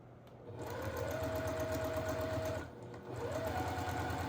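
A sewing machine stitches a butterfly quilt block, a fast steady mechanical hum running for a couple of seconds, pausing briefly, then starting again close up with no talk.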